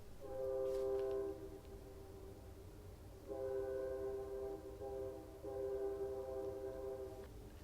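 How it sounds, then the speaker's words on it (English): A train passes at a distance, with its horn sounding in three long, faint blasts separated by pauses, over a low rumble. "why is the train passing on by at this hour?"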